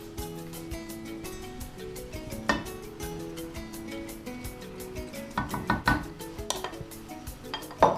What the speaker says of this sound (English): Put in your meat, stewing beef.